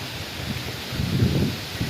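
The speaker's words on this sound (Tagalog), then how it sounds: "ayan, ang lakas ng hangin" Strong wind from Super Typhoon Pepito rushes and buffets against the microphone, a steady broadband roar that swells louder midway through.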